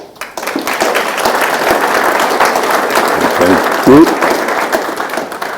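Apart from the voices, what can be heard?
audience applause for the Military Ombud team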